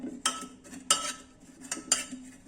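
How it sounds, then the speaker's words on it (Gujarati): A utensil thumps and scrapes through boiled potatoes and brinjal in a pot for pav bhaji, three distinct knocks spaced about a second apart with soft mashing in between, close and fairly quiet. "બટેકા અને રીંગણા જ નાખ્યા છે અને એને સરસ રીતે મેશ કરી લઈશું"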